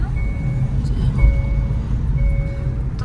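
A vehicle pulling out gives off evenly spaced, high electronic reversing beeps, three clear pulses over a low engine rumble close by.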